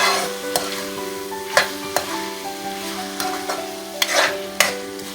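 Green chilies and spices sautéed in a pan for tinday ka salan, spatula strikes and scrapes landing irregularly over a steady close sizzle and a faint background hum.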